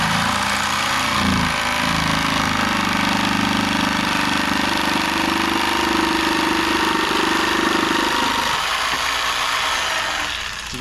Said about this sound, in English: the jigsaw blade goes in there. We're just gonna cut across.